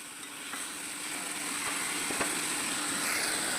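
Onion frying in a pan for a spicy tomato chutney, a soft, steady sizzle held close and fairly quiet throughout with a few faint ticks, no voices.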